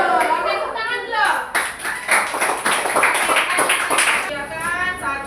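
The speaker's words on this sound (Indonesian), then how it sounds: "tepuk tangan dulu" Children clap their hands in a classroom during an Islamic education lesson, a brisk burst of many small hands that dominates the middle of the clip, with children's voices chattering before and after.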